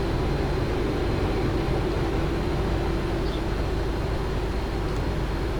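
Boeing 777 engines roaring steadily as thrust increases with the gear coming down, probably in a flight simulator; a continuous, loud, even rumble with no pauses and no voices.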